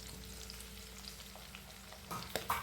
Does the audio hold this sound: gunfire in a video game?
no